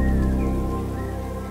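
Steady rain in the video game The Wild at Heart falls as an even, continuous patter beneath soft sustained tonal ambience, with no talking.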